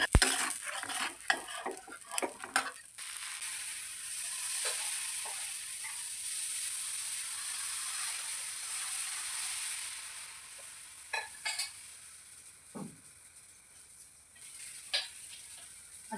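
Rava uttapam topped with onion sizzling on a pan, a soft steady frying hiss after several quick clinks of a spatula at the start, with occasional light taps later and no talk.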